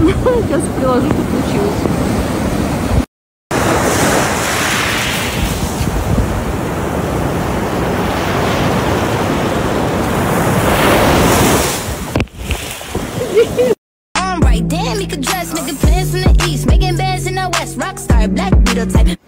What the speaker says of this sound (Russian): Хотела поснимать вам море